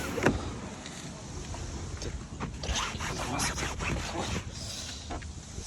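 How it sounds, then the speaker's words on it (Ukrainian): Motorized sunshade blinds on a 2010 Renault Scenic 3 glide open and closed inside the car, a soft whirring slide with light rustling clicks, steady and close, with faint voices in the background. "Тут у нас є шторки, які закриваються і відкриваються, так воно працює все."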